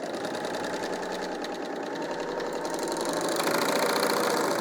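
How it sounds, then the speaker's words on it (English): A BERNINA L 890 overlocker runs steadily on a 4-thread stitch along the edge of a knit top, a continuous close mechanical whir that grows slightly louder toward the end. "we're going to head over to the machine and we're going to just sew this edge"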